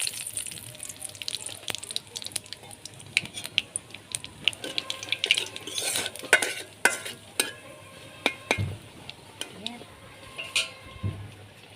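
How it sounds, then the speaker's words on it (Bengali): Bay leaves and black cumin crackle and sizzle in hot oil in a pan during a Bengali egg curry, with a steady fry under sharp, irregular clinks and scrapes of stirring. "তেল গরম হয়ে গেছে, তেজপাতা আর কালো জিরা ফোড়ন দিয়ে দেব।"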